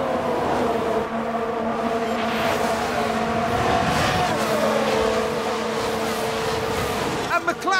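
McLaren Formula One race car engine droning steadily with a rising and falling pitch as it overtakes, loud and continuous, with a short burst of other noise at the very end.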